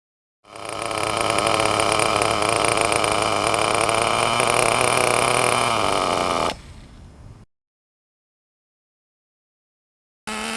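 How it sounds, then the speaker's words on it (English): A TNX nitro model engine runs during tuning, a loud, steady high-pitched buzzing whine for about six seconds, then drops to a rougher idle and cuts off into silence, with a brief burst at the end. "check throttle response, the amount of smoke exiting the exhaust and engine tone while accelerating from idle"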